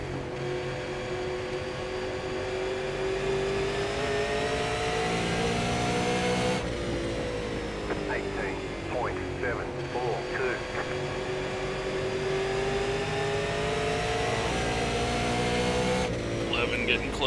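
Super Late Model stock cars racing at Nashville Fairgrounds Speedway in iRacing: a steady, loud engine drone with shifting pitch as the pack circles, a couple of abrupt changes in tone, and a voice talking over it at times.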